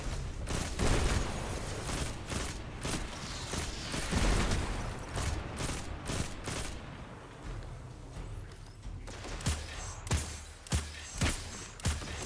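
Fallen enemies in Destiny 2 hurl grenades during a firefight, bringing a dense run of booming blasts and rapid gunfire, followed by sharper, spaced bursts later on.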